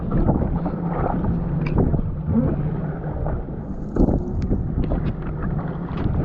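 A jet ski runs over shallow water off Key West with a steady, close engine drone and heavy wind buffeting the microphone, and a few brief knocks over the top.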